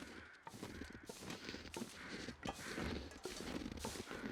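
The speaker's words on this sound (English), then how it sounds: "Those are either traveling crows or carrying crows, not bear crows." Crows caw repeatedly in harsh, overlapping calls over a busy background, some near and some farther off, in the video game The Long Dark.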